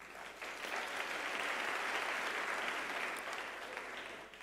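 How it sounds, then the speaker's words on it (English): An audience at a university graduation ceremony applauds with a steady, dense wash of clapping that swells and then eases off slightly, heard alone. "You need to give that a round of applause."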